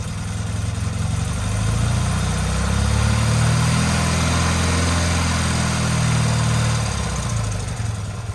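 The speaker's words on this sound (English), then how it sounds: "So now we're gonna synchronize it off idle. So what we're gonna do is rev it up." An old engine that sat unused for over twenty years, revved up off idle while its carburetors are synchronized, a loud steady drone that swells and holds, then eases back down.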